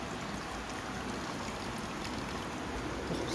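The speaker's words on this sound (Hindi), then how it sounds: "मुझे इतना पसंद है ना ये फिल्टर, ये पानी गिर रहा होता ना" Water falls steadily from a filter into a home aquarium, giving a continuous close splashing trickle with no talk over it.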